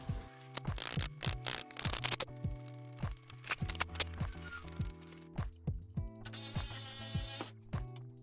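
Repeated ratcheting and clicking of a socket wrench working a bolt loose on a Jeep Wrangler's front upper control arm, close and fairly loud, with quick bursts and short pauses, then a brief hiss near the end.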